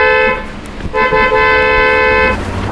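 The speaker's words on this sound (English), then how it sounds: "Please, honk, honk, please, honk, one time" A car horn blares loudly and close, with one short honk followed by a longer sustained blast over street noise.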